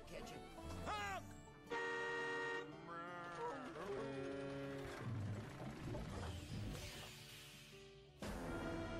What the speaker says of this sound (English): Just sneak up on them and honk.